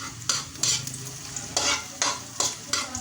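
Vegetables sautéing in a pan, a steady sizzle broken by repeated bursts of scraping and stirring every half second or so, close and fairly loud, with no talking.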